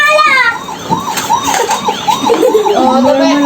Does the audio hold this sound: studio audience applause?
no